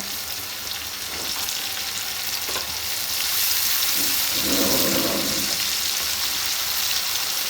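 Whole cumin and garlic paste frying in a pan of oil: a loud, continuous sizzle that swells midway as more paste goes in, with occasional stirring scrapes.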